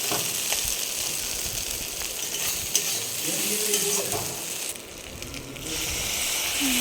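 Ginger, cumin and mustard paste fry in hot oil with a steady soft sizzle, faint scraping as the spoon stirs through the mixture, close and fairly quiet.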